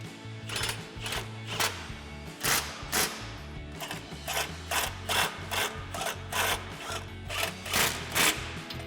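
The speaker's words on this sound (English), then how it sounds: "then we can take our 18mm socket to tighten down our 2 nuts" An 18mm socket on a ratchet tightens two nuts on a Jeep Wrangler fog light bracket, giving a steady run of close, rhythmic clicking bursts repeating about every half second.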